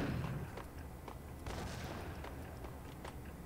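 Grenade blast and gunfire in the Max Payne shooter game, a dense run of booms and shots with sharp bursts near 0.0, 1.5 and 3.0 seconds over constant game noise, loud and fairly close with no talk.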